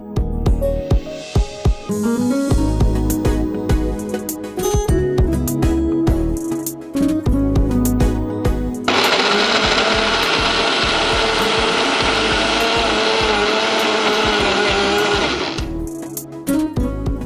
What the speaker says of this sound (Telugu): ఇంకోసారి మిక్సీ తిప్పేసి